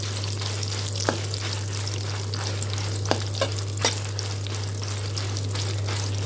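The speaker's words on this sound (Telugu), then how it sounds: "ఎండుమిరపకాయలు కూడా చక్కగా కలర్ చేంజ్ అయిపోయింది, వేగిపోయినాయి" Dried red chillies fry in hot oil with a steady close sizzle, broken by a few sharp clicks of a spoon stirring the pan.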